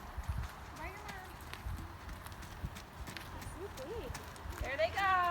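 Horses walk out through a farm gate to meet a herd, hooves clopping in an irregular, moderately close rhythm on the ground while people talk and a horse whinnies faintly.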